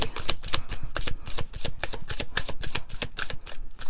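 Oracle cards being shuffled by hand, a steady run of crisp riffling flicks and soft slaps repeating close up, with no talking.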